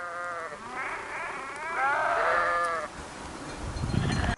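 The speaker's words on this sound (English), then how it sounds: "Some of their bleating sounds like they're in agony." Many sheep bleat at once on a mountain trail, overlapping wavering cries from a large flock, some strained and drawn-out, fairly close and continuous with outdoor background noise.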